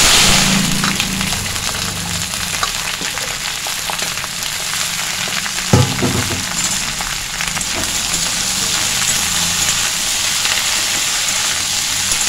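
Cut cluster beans and potatoes sizzle steadily in hot oil, a loud continuous frying hiss with occasional stirring clatter and no talk.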